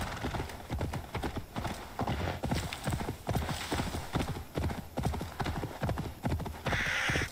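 Horse hooves clip-clop in a steady rhythmic gait in Assassin's Creed Valhalla, loud and close, with a whinny near the end.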